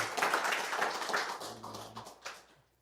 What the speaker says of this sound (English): Please give a round of applause to Stephen Ho.